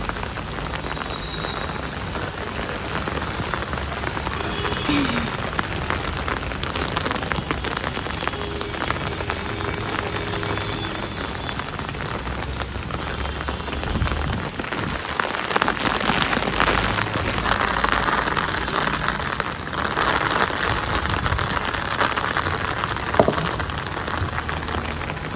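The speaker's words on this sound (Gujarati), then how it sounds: "વરસાદ આખી રાત પડ્યો જ છે કન્ટિન્યુઅસ." Steady rain falls continuously through the night, a dense close patter on surfaces lasting the whole stretch, thickening slightly midway, with no voices.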